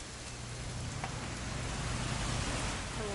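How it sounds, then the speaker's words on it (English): Steady rain falling outdoors, a dense even hiss with occasional louder drops and a low rumble beneath, no voices. "It's gonna rain the whole weekend"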